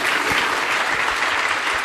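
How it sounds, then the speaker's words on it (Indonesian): A church congregation claps loudly and steadily, a dense wash of applause filling the room for a short stretch with no break. "Beri tepuk tangan bagi Tuhan Yesus."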